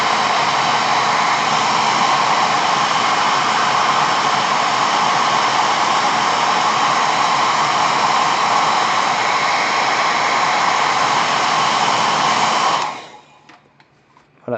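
A hair dryer blasts a steady, loud roar for about thirteen seconds while drying paint on a Star Wars Legion stormtrooper miniature, then cuts off and winds down into near silence.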